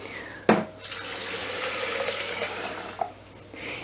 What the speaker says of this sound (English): we're going to pour 1 liter of cold water